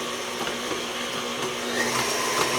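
Electric mixer beating vanilla sugar cookie dough as eggs are added one at a time, a steady whirring motor drone that holds even throughout and swells slightly near the end.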